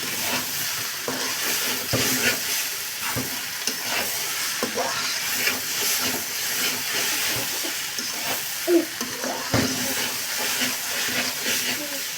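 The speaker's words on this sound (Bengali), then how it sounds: "শাক দিয়ে এবার খুব ভালোভাবে কষিয়ে নেব।" Cauliflower greens stir-fry in a pan with a constant close sizzle and hiss, broken by repeated scraping and knocking strokes of a spatula.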